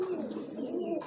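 A domestic racing pigeon in a loft gives a soft, close, low burbling coo lasting about a second, alone without talk.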